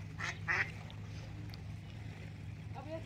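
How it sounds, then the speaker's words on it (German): A few faint quacks from a duck near water outdoors in Salzburg, brief calls early and again at the end over a steady low hum. "Konzentriert sich auf die Ente."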